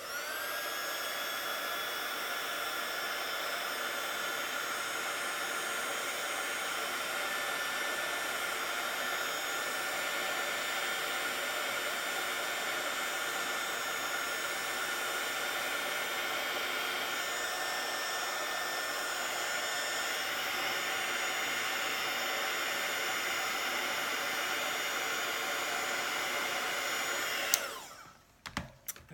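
A hair dryer blows steadily for nearly half a minute, drying makeup powder: a loud, close, continuous whooshing roar with a motor whine, cutting off abruptly near the end.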